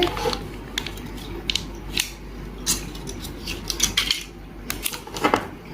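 Crinkling, snipping and clicking as a chocolate dessert custard pack is opened in a home kitchen, a busy run of close, irregular crackles and taps with no speech.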